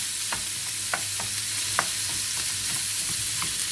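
Minced meat, about 300-400 grams for a börek filling, sizzles in a pan with a steady close crackle and periodic soft scraping stirs.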